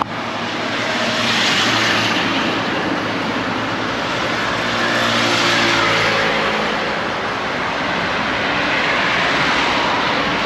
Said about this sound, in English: So a lot of traffic noise, I'm afraid.